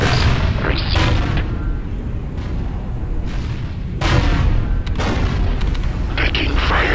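Dense, continuous gunfire and explosive booms in the strategy game Ground Control II, a steady loud barrage with sharper bursts near the start, middle and end, and game voices mixed in.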